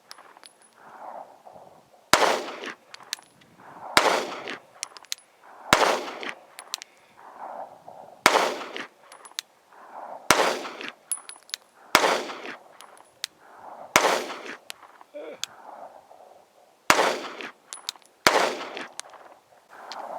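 Repeated pistol shots from a SIG P365XL firing Blazer Brass ammunition outdoors at long range, about a dozen sharp loud cracks spaced one to two seconds apart, with ringing tails between them.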